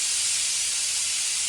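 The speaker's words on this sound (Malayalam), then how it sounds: "കുക്കറിൽ 2 വിസിൽ വന്നു" A pressure cooker with jackfruit seeds inside releases steam through its whistle in a loud, steady, close hiss that runs unbroken from start to finish.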